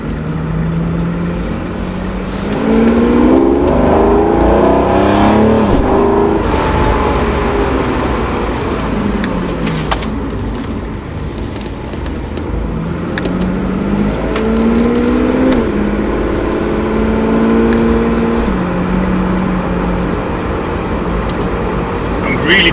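A Mercedes 190 with a V12 engine accelerates hard from standstill to 100 km/h, its engine note climbing repeatedly through the gears of an old 5-speed automatic, heard from inside the cabin with some talking.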